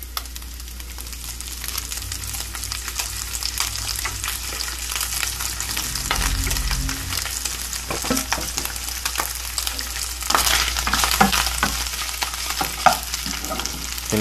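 Pork frying in a little oil in a pan for ginisang pechay, a steady close sizzle with occasional stirring scrapes and clatter throughout, with no talk.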